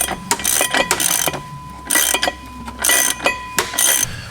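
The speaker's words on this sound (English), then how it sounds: "we're just unbolting all 6 bolts from that sort of rubber bushing" Tools clatter and ratchet in short bursts while bolts are undone from the rubber tail shaft bushing under a BMW E46, a series of close metallic clicks and pauses.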